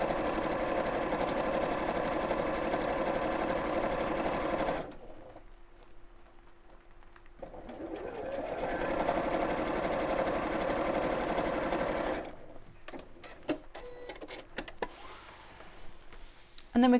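Sewing machine top stitching across the top of a clutch bag: a fast, steady mechanical whirr in two long runs separated by a pause, close and clear, ending in a few clicks and handling noises.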